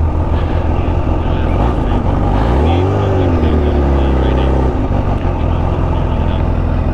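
A 2019 Kawasaki Ninja H2 motorcycle engine runs loud and close, a dense rumbling drone with a brief rising rev in the middle, mixed with strong wind-like noise.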